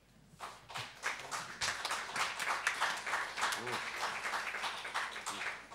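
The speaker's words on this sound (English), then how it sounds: "Loud applause." Loud audience applause fills a debate chamber at an education forum after a speech supporting a motion on teacher unions, steady dense clapping sustained for several seconds with some murmuring in the crowd.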